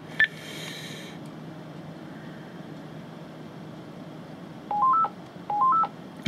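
DTMF dialing tones from a Speedport W900 V router's connected phone: a short beep at the start, then two quick rising three-tone key sequences near the end, clear over a steady background hum.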